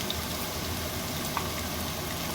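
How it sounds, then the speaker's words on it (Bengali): Chopped ginger and green chilli frying together in a pan over a low flame, a dense, even sizzle that holds steady from start to end with no voices. "সব একসঙ্গে এটাকে আগে ভেজে নিতে হবে।"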